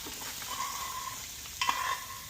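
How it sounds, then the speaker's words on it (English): A spatula scrapes cooked food from an Our Place titanium pan into a bowl, with close grating strokes and two tonal metallic scrapes over a faint background sizzle. "we'll scrape this into our bowl"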